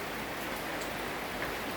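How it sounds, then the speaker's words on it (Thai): Rain falling at a cave temple, a steady dense hiss of drops that stays even and close throughout with no voices. "ฝนตก"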